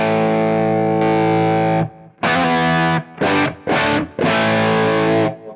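Heavily distorted electric guitar through an LPD Sixty8 amplifier with drive added: a long sustained overdriven chord, then several short, choppy chord stabs ending in a held chord, loud and close.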